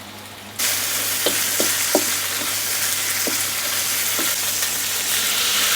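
Shrimp and long beans stir-frying with curry paste in a hot pan, a steady loud sizzle starting abruptly after a quiet moment, broken by a few sharp clicks of a utensil stirring.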